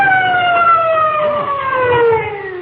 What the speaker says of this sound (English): I can still hear them sirens